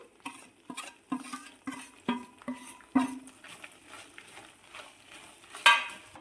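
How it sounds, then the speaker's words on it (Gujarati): Sesame barfi mixture is stirred in a pan, with a spoon scraping and knocking against the metal in irregular, close strokes and a faint sizzle underneath. "અને હવે આ બધું આપણે આવી રીતે મિક્સ કરી લઈશું"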